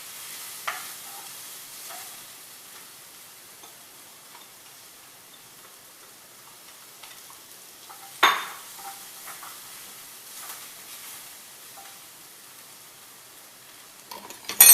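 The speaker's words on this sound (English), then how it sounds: "I'm going to give my little veggies a stir just to make sure they're not burning." Vegetables, with zucchini among them, sautéing in a pan while a utensil stirs them: a faint, steady sizzle with soft scraping clinks, a sharper knock near the middle and a few louder clatters at the end, no talking.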